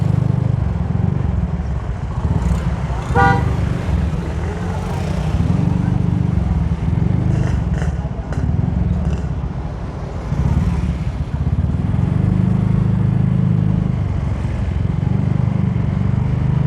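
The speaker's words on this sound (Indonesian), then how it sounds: "Macet ya guys." Motorcycles and cars idle and crawl in a traffic jam, a steady low engine rumble filling the whole stretch with a few brief revs, while a voice speaks faintly over the traffic.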